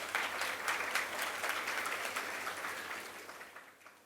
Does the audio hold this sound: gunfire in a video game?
no